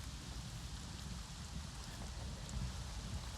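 Steady rain falls in Avatar: Frontiers of Pandora, a dense, even hiss with a low rumble underneath, constant and unbroken throughout with no one talking.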